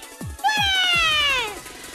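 A ghost Sprunki turned cat-fox in Incredibox Sprunki lets out a single loud, drawn-out meow that slides downward, preceded by a few soft thumps and heard clearly with no speech over it.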